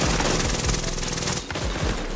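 Gunfire in the video game The Division during a Dark Zone fight with an MP7, rapid bursts of automatic fire rattling loudly and almost without pause, briefly broken midway.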